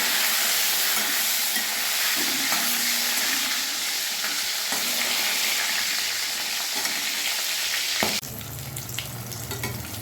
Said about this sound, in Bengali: এবারে পটলগুলো আমি ভেজে নিচ্ছি।